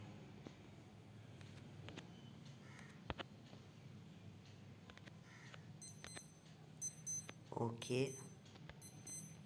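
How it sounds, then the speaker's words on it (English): Electronic beeping from a wristwatch alarm, a few short high repeated beeps near the end over game sounds and background noise, with brief talk. "Yeah, it's just my watch alarm."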